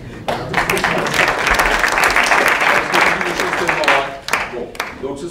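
A conference audience bursts into loud, dense applause that holds steady for about four seconds, then thins into scattered claps.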